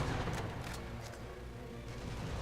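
Gunfire in the video game Sniper Elite V2: a few quick, fairly faint bursts of shots crackle over a low rumbling game soundscape.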